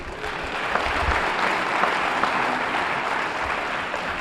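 A debate audience claps continuously, a dense, even wash of applause throughout with no voices standing out.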